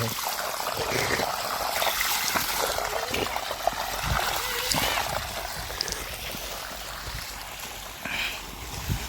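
Steady rushing and splashing of water pouring out of two pipes, continuous and fairly loud, with faint background noises mixed in.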